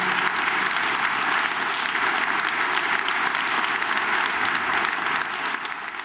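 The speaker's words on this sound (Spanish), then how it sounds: "pido un fuerte aplauso" Audience applauding loudly and steadily at a Spanish-language tribute event, a dense, sustained wash of many hands clapping that holds for about six seconds before easing slightly at the end.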